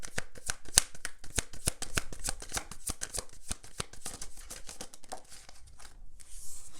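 Tarot cards being shuffled close up, a steady fast run of crisp papery riffles and slaps that thins toward the end.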